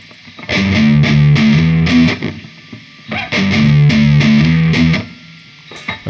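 A distorted electric guitar plays a riff slowly, in two loud repeated phrases of sustained low chugging notes with a short pause between them.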